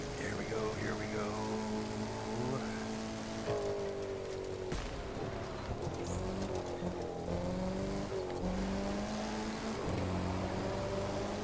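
A race car in The Crew 2 accelerates under nitrous, its engine note climbing through gear shifts with tire squeal, loud and sustained throughout.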